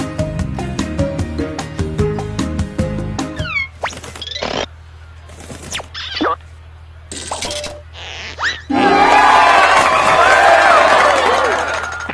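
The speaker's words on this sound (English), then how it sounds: "Keep that applause going for our next comedian." Audience applause and cheering in the Jackbox party game swells into a dense, loud wash near the end, after game music and scattered short sound effects.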